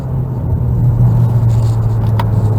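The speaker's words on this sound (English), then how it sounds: "I definitely hear the exhaust getting louder" Exhaust of a 2022 Hyundai Elantra N-line heard from inside while driving on a road, a steady low drone that swells slightly louder, with no talking.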